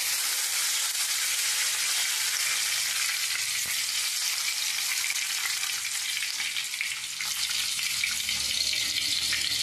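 Garlic cloves hit hot oil in a home kitchen pan for a Maharashtrian fenugreek dish, giving a steady, loud, hissing sizzle that runs continuously without voices.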